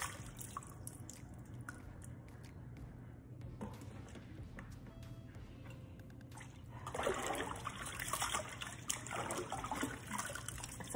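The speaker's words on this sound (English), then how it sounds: "you just keep washing until they're nice and clean" Cabbage leaves are washed under running water at a sink for fried cabbage and sausage. Faint drips and trickling carry on steadily, then swell into a louder rush and splash partway through, with no voices.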